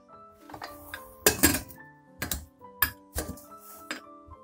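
Unpolished dal being washed in a metal vessel, with several clinks and knocks of metal and grain at irregular intervals, close up in a quiet kitchen.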